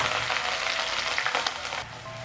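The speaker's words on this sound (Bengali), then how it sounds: "এগুলো খুব ভালো করে ভেজে নিতে হবে।" Chopped onions frying with ginger paste crackle in a bright, dense sizzle close by, with brief stirring bursts before it eases slightly.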